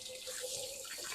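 Water runs steadily from a kitchen sink tap as hands are rinsed, a close continuous hiss and splash that lasts about a second with no talking.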